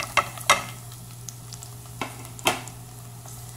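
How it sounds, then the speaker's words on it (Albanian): Chopped onions sautéing in hot olive oil in a pot, a steady close sizzle with a few sharp scraping stirs of a utensil scattered through, no voices. "I japim një kaurdisi të lehtë."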